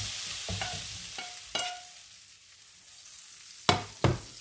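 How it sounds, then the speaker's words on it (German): Gyros meat fries in a pan for a soup, with a soft steady sizzle underneath and several sharp scraping clatters as it is stirred and turned, close and alone. "Und die nächste Rutsche wieder anbraten."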